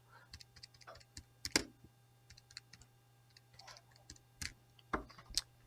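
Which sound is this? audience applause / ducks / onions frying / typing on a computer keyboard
typing on a computer keyboard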